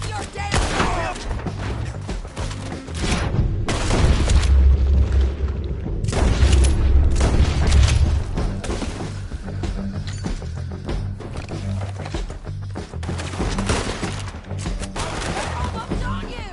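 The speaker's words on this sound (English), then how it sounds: "Artillery!" Heavy artillery fire and gunfire in the video game Red Dead Redemption 2, deep booms and bursts of shots rolling continuously and loudly while several voices shout over the battle.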